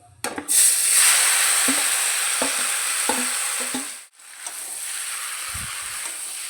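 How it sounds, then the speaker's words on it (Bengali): Spice-marinated small chuno fish hit hot mustard oil with black cumin in a kadai, bursting into a loud, steady sizzle broken by a few stirring knocks and a brief dip before the hiss resumes. "তেলের মধ্যে অল্প দিচ্ছি কালো জিরে মশলা মাখিয়ে রাখা মাছটা দিয়ে দিচ্ছি"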